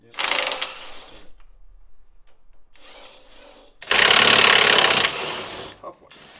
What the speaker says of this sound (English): You could use the impact on that side.